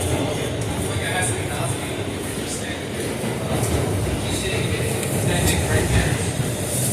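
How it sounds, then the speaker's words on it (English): Interior of a Brooklyn-bound R211T C subway train in motion, a steady rumbling ride with rail noise and faint clicks, with murmured talk mixed into the continuous din. "I can't believe that I caught this train"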